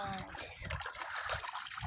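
Running water trickles and splashes while fish are washed clean, a continuous close wet rush with a person talking over it.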